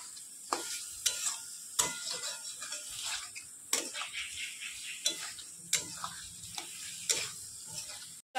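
Soybean chunks fry with spices in a pan under a soft sizzle, while a spoon scrapes and knocks against the pan in sharp, irregular strokes about once a second.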